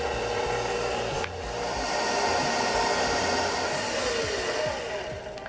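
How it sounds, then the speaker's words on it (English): An electric mixer mixing dinner roll dough with flour, a steady loud whirring drone that runs throughout with faint knocks and scraping in the bowl, heard close and with no talking. "we're going to turn the mixer on, and we'll just mix this up for a couple minutes"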